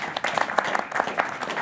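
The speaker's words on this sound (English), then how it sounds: "Feel free to give yourselves deafening applause." A television studio audience gives a brisk burst of applause, with many hands clapping in a continuous, moderately loud patter.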